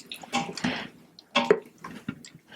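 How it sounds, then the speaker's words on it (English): Water splashes and sizzles into a pan of spicy shakshuka tomato sauce, a few close, uneven bursts of pouring and bubbling with short gaps between them. "We'll throw in a little bit of water at this point, just to thin it out,"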